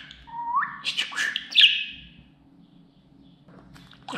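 A pet budgerigar chirps close by, a quick run of rising whistles and sharp tweets over about two seconds, then a quiet pause before another brief chirp begins, all against a low steady hum.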